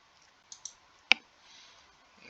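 A computer mouse gives a few light, close clicks, three quick taps with one sharper click, against a quiet room.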